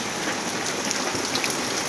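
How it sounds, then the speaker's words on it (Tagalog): Heavy typhoon rain pours steadily and loudly onto surfaces near a school, a dense unbroken hiss of drops with no voices. "Grabe rin yung, yung ulan."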